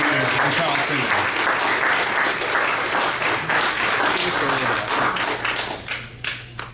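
An audience at a Detroit community session on Black power and politics claps in a full, sustained round that thins into scattered claps near the end, with voices mixed in.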